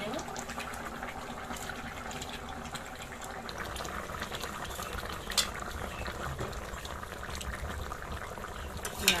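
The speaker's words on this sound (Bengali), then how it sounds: "তরকারিটা ফুটে গেছে।" A thin potato and pumpkin fish curry simmering in a pot, a quiet continuous bubbling with a couple of small clinks, close up and without talk.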